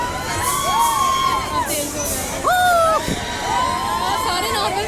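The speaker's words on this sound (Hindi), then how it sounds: "अब इनकी चीखें ज़रा सुनिए।" A young girl screams with excitement on a fairground ride, giving long rising and falling shrieks. Other riders' shouts and cheers mix in over a steady mechanical rumble.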